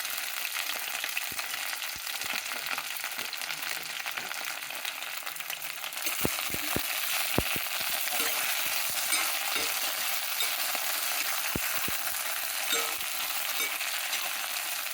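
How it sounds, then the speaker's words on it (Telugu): Okra sizzles steadily as it fries in oil for a mutton and okra curry, with occasional sharp clicks of a spoon stirring against the pan over a constant hiss. "కొద్దిగా పచ్చివాసన పోయేంత వరకు వేయించుకోవాలండి."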